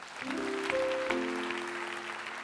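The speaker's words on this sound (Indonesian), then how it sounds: "beri tepuk tangan untuk mereka" A church congregation applauds for fellow believers in Papua, a soft wash of clapping under sustained musical tones, held at a moderate level.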